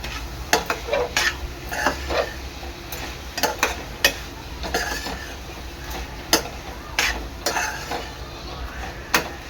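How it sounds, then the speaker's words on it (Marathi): Bottle gourd halwa with released ghee, nutmeg and cardamom powder is stirred in a pan: close, rhythmic scraping and clinking of a spoon against metal over a soft, low sizzle. "आता ह्यामध्ये मी टाकते जायफळ आणि वेलची पावडर चांगलं मिक्स करून घ्यायचं आहे"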